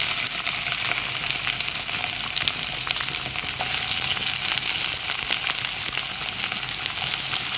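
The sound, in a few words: ginger and onion frying in a pan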